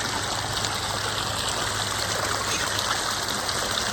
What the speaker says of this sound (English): We got this neat little waterfall over this log.